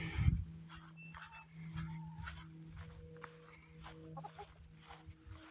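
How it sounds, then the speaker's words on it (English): Hens cluck in short bursts close by in an outdoor yard, with a low steady hum and light shuffling steps underneath. "Chickens are just part of things here."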